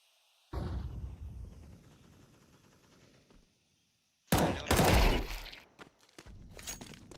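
A thrown flashbang grenade in Counter-Strike gameplay, heard as a sudden sharp burst that fades, a quiet pause, then a loud cluster of bangs and clatter with further impacts toward the end.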